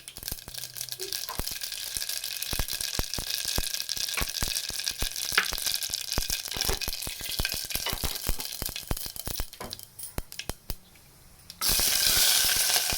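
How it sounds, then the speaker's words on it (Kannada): Mustard seeds frying in two spoons of oil in a pressure cooker crackle and pop in dense irregular bursts over a steady sizzle, ending in a louder rushing hiss. "ಈಗ ಕುಕ್ಕರ್ಗೆ 2 ಸ್ಪೂನ್ ಎಣ್ಣೆ ಹಾಕಿ, ಸ್ವಲ್ಪ ಸಾಸಿವೆ"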